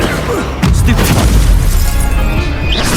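A Stupefy spell cast in the video game Hogwarts Legacy lands as a loud booming blast with a sharp onset, followed by a sustained rumbling crackle over several seconds with no talking.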